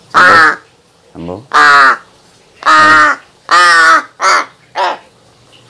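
A big black crow caws loudly and close by in a series of about seven harsh, separate calls spaced across several seconds, with short silences between them.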